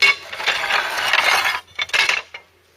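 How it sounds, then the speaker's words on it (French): A hammer drives a chisel into stone, giving a sustained scraping, chipping burst followed by two shorter sharp strikes, close and fairly loud, with no talking. "Chaque coup de marteau qu'on m'a donné, ça va faire décoller légèrement la pierre."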